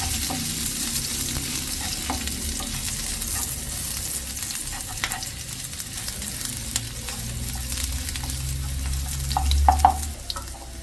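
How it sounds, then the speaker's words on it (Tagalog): A tuna omelette of beaten egg, tuna and green onions fries in a pan with a steady, moderate sizzle. Occasional light scrapes and taps of a utensil come through, with no talking. "Ako'y magluluto ng tortang tuna."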